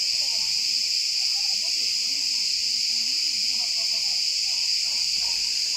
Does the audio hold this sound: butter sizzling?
no